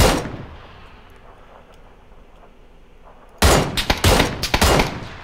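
After a stretch of quiet, a burst of loud gunfire erupts in PUBG, with rapid close shots and crackling follow-up reports packed into the final two seconds.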